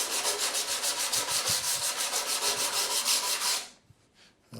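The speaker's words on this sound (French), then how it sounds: "ça part au ponçage." Steady rhythmic sanding of a wooden table, loud close back-and-forth rubbing strokes that stop abruptly near the end, with no talking.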